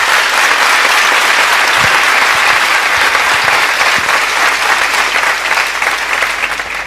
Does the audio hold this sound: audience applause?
yes